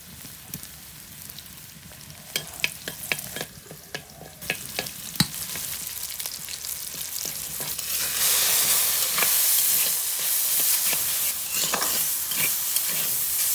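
Bottle gourd leaves hit hot oil in a village kitchen: a quieter sizzle with scattered clinks and scrapes at first, then swelling into a loud, steady, hissing fry.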